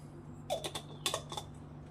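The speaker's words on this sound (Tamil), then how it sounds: "கடலெண்ணெய் நல்லா அந்த சூடு வந்தோடனே கொஞ்சம் கடுகு" Mustard seeds spluttering in hot groundnut oil, giving a handful of sharp, quiet crackles and pops in two brief clusters with no talking.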